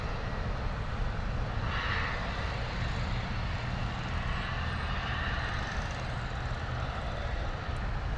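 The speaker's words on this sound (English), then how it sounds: "Lovely touchdown there from the Aer Lingus A321neo." Aer Lingus A321neo touching down at London Heathrow, a steady broad jet roar heard from a distance, continuous throughout with no voices.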